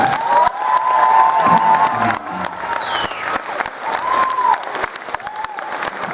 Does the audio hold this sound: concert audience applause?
yes